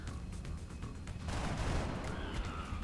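Rapid soldier gunfire in the XCOM Long War turn-based tactics game, a dense burst of shots building over a couple of seconds with no talk over it.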